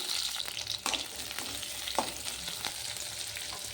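Eight garlic cloves and a large chopped onion frying in two teaspoons of oil, a soft continuous sizzle with occasional stirring scrapes and pops, close but fairly quiet.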